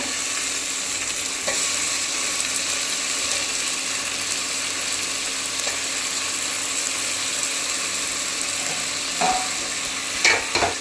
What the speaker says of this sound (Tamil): நல்லா வெங்காயமும் தக்காளி எல்லாமே ஃப்ரை ஆகும்